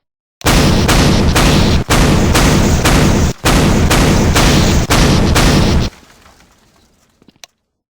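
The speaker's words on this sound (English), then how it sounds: "I recently improved the Claw of Death by adding some sound effects to the explosions." Explosion sound effects from the Claw of Death game fire in a rapid series of loud, harsh bursts of noise separated by brief gaps, then give way to a faint crackling tail.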